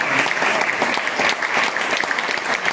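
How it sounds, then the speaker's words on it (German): Sustained applause from a crowd honoring the SSV fistball team at a county sports-awards ceremony, steady dense clapping filling the whole stretch at a loud, even level. "nochmal einen großen Applaus an die Faustballer von SSV"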